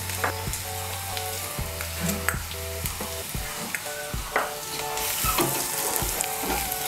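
Onions frying in a pan with turmeric and salt give a steady close sizzle, broken by repeated scraping stir strokes and light clinks of a spoon, with no voices.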